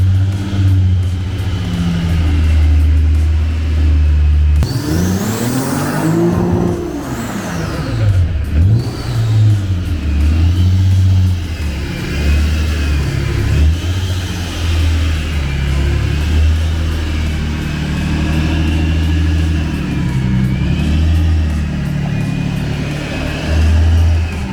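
A Ford RS200 kit car revs as it rolls forward a short way, its engine loud and close. A sharp rising and falling rev surge comes partway through, over a steady low rumble that lasts the whole time.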